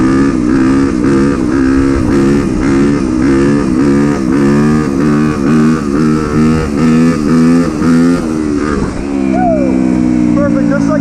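A motorcycle engine revs hard with a pulsing, steady drone as the rider pops the clutch for a wheelie, loud and close throughout, with a brief dip and shift near the end.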